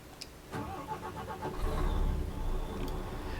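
Irizar i8 bus in Euro Truck Simulator 2 heard from inside the cab, the engine cranking and catching, then settling into a deep, steady idle rumble, close and even.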